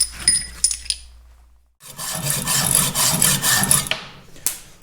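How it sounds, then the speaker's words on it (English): A hacksaw rough-cuts small parts to length for a Caterpillar D2 diesel engine, beginning with a few light scrapes and then a burst of rapid, rasping back-and-forth strokes, close and loud, without speech. "So I'll do a rough cut to length on each one with the hacksaw"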